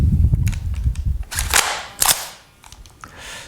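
A Rare Arms XR-110 CO2 gas-blowback airsoft rifle with shell ejection fires a few sharp cracking shots close up, spaced irregularly with mechanical clatter between them, and the reports fade into quiet handling noise.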